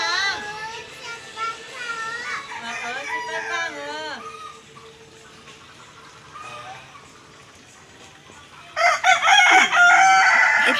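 A fighting rooster on a farm crows early and again loudly at the end, with clucking fowl around and a child and adults chatting in between.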